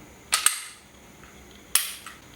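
Two sharp clicks of a pistol dry-fired with a laser training cartridge in the chamber, the first a quick double snap and the second about a second and a half later, close and fairly loud in an otherwise quiet room.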